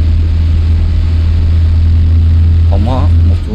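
A steady low bus engine drone in Tourist Bus Simulator hums continuously in a high gear, idling with a mid-range growl, while a voice briefly speaks near the end.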